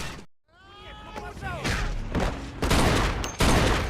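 Gunfire in the Mafia II video game, several sharp shots bursting out over busy game noise and shouting, the shots fairly loud and close.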